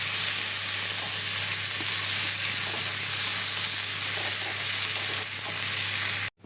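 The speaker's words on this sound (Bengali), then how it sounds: "তো এগুলোকে এবার ভালোভাবে ফ্রাই করে নেব।" Chopped tomatoes and green chillies frying in oil for a dhaba-style eggplant masala give a steady, soft sizzle throughout, cutting off abruptly at the end.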